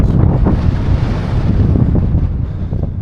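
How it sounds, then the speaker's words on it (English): Strong wind buffets a microphone on an exposed mountain route up Grasmoor, a loud continuous low roar with gusty swells and no voices. "I'll have to get my mic out shortly and try and cut the noise down off the wind."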